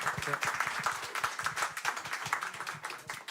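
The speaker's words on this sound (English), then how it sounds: "And a round of applause for that." A modest audience claps steadily at a political discussion event, individual hand claps audible in an uneven, fairly close rhythm with a few voices mixed in.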